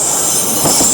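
An Azuma passenger train passes at Manors station in Newcastle, with a loud, close, continuous rush and a high wheel squeal over the rolling noise.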